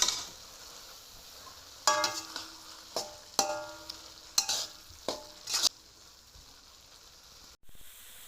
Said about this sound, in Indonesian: Kemudian tambahkan garam, kaldu bubuk, dan merica. Lalu aduk rata.